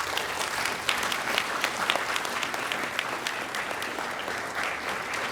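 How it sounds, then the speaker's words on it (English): An audience at a senior-division science fair awards ceremony applauds students' parents, a steady dense wash of many hands clapping throughout the room, moderately loud and continuous with no talking over it. "so students, I think they need some applause."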